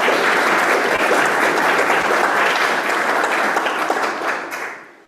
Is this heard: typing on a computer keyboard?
no